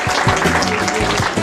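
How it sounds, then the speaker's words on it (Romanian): Audience applause at a seniors' evening event in a hotel hall, a brief burst of dense, steady clapping from a crowd. "Haideți, vă rog, în aplauzele dumneavoastră, să mulțumim tuturor invitaților pe care i-am avut în această seară"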